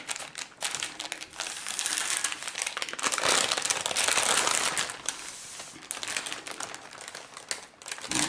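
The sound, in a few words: baking paper crinkling while rolling Nutella Swiss roll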